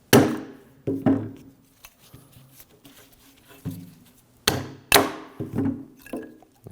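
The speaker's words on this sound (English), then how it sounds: "Using a hammer, you whack the pads." A hammer strikes brake pads to knock them out of a rear caliper bracket on a 2013-2015 Subaru XV Crosstrek, giving sharp metallic whacks in two clusters separated by quieter handling noises, close and loud.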